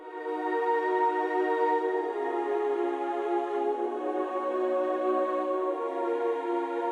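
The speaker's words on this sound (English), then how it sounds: "I got this pad from X-Band 2." A soft synth pad from the X-Band 2 instrument holds sustained guitar-style chords, a smooth, even wash that shifts chord partway through, quiet and steady with no voices.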